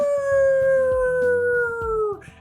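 A dog named Ringo howls in a long, sustained, slowly falling wail, loud and close, ending with a drop-off; a steady rhythmic background thumping runs underneath.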